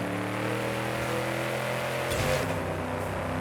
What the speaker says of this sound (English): This truck just doesn't have the acceleration.